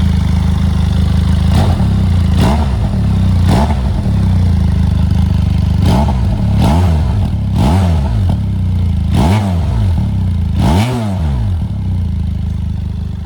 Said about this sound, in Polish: I trochę teraz posłuchajcie jak, jak ten wydech brzmi.